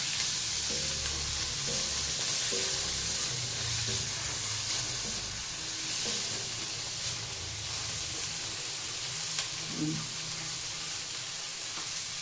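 Capsicum and green peas frying in a wok make a continuous, fairly loud sizzle with scattered stirring noises mixed in and no voice over it.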